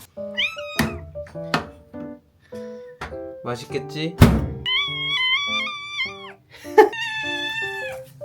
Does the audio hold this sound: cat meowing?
yes